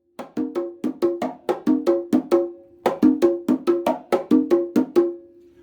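Conga drums playing a ChachaElekefuñ rhythm, repeating groups of a sharp slap followed by two ringing open tones, loud and close, with a brief pause midway before the pattern resumes.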